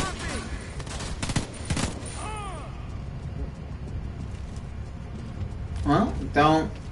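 Gunfire crackles through a firefight in the video game Homefront 2, with bursts of rapid shots, scattered single cracks and a heavy volley near the end, under a player's voice.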